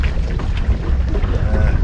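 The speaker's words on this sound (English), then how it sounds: "Now we got the wind cranking" Strong wind on a New Jersey lake during a cold front, heard from a musky fishing boat, roars as a steady, loud, low rumble buffeting the microphone without letup.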